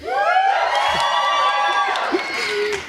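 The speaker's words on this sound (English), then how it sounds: "And they brought their own cheering section." Cheering section at a nursing pinning ceremony erupts in loud whoops, shouts and cheers from a crowd, with a few claps, filling the room for a few seconds.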